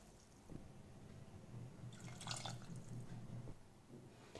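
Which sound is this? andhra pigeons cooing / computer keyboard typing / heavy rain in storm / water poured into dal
water poured into dal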